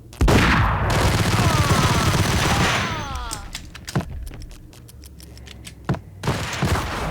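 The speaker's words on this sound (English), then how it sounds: "After gunning down more mobsters, we finally get to Lupino." Gunfire in the video game Max Payne as mobsters are gunned down: a loud, dense fusillade of rapid shots, followed by scattered single booming gunshots and thuds.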